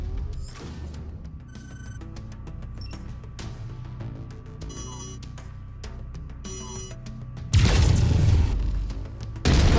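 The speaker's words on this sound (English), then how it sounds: "Go ahead and try shooting the cockpit." Weapon fire and metallic impacts against a mech's cockpit in MechWarrior 5 Mercenaries, with sharp clanking bursts, ringing electronic tones, and a loud heavy blast near the end.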